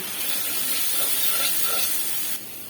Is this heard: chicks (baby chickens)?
no